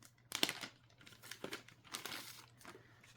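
Resealable black plastic bag from an Oathsworn: Into the Deepwood board game box being opened, a few close crinkling rustles and crackles with small tearing-like bursts, no talking.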